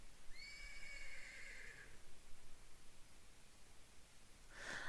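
A horse in a video game lets out a clear, drawn-out whinny lasting a couple of seconds, then a short breathy snort near the end, close and alone over faint background.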